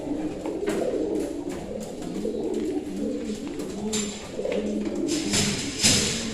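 Several pigeons coo in soft, overlapping low warbles, close by, with occasional taps and light fluttering noises.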